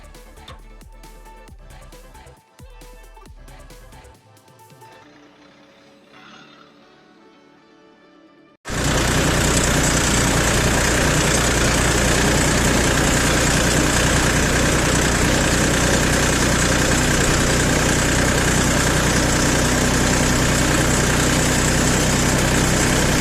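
A YTO 244 SX tractor engine on spring cultivation work starts as a quieter, uneven background, then jumps to a loud, close, steady diesel drone that runs on without pause.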